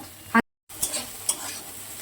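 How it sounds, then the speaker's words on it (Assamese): Brief close sizzle of an egg frying in a pan with dhekia fern greens, with a couple of scraping stirring strokes and a short drop to silence. "এতিয়া মই কণীটো ভালকৈ ভাজি ল'ম"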